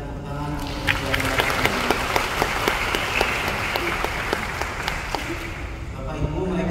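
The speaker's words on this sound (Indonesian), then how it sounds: "Kita berikan tepuk tangan untuk kedua." Congregation at an Advent Sunday Mass applauding two friars, a sustained round of clapping with distinct nearby claps and faint voices underneath.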